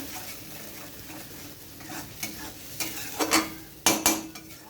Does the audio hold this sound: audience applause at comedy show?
no